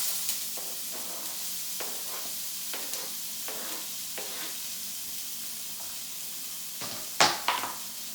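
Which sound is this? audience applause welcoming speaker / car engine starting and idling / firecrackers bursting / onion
onion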